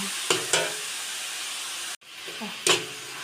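Marinated pork stir-fries for wide noodles with soy sauce, a soft sizzle with a few sharp scrapes of a spatula in the pan, faint and close, with a brief cut partway.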